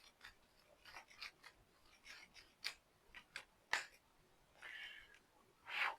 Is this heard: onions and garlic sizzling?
no